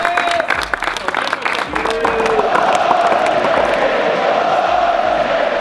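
Crowd applause and cheering at an amateur football tournament event, loud and close, with shouts and whoops riding over the clapping and a voice calling out near the start.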